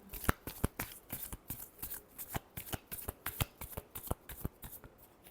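A deck of tarot cards being shuffled by hand, producing a steady run of crisp, papery riffling clicks close up, repeating irregularly for several seconds with no voices over it.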